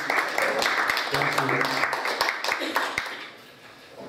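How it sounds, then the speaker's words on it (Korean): Applause for the board chairman at a Korean association board meeting, a dense roomful of clapping that starts full and gradually thins out, with a voice speaking briefly over it. "우리 이사장님한테도 한번 박수"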